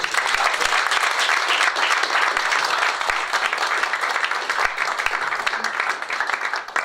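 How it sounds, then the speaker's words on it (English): Audience at a university politics society talk with an MP gives a big, continuous round of applause, loud and dense for the whole stretch, with no speech over it. "Can we give a big round of applause?"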